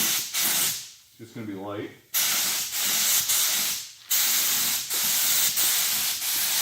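Paint spray gun laying a light first coat onto a damaged bumper cover: a steady broadband hiss that runs in long passes, breaking off briefly while someone speaks over a quieter stretch, then resuming strongly.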